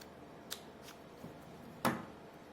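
Scissors snipping paper to shape a paper flower, a few quiet separate cuts with one sharper snip near the end, close and alone with no talk.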